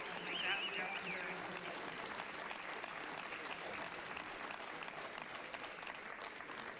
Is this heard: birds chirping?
no